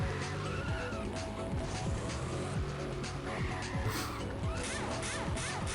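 Tires squeal as a car swings hard into corners in the racing video game London Racer II, repeated skids over a constant loud engine drone.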